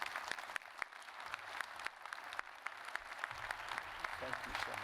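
Sustained applause from an audience at a distinguished lecture series event honoring General Stan McChrystal, dense clapping filling the room steadily throughout with scattered sharper claps and a low rumble of voices underneath.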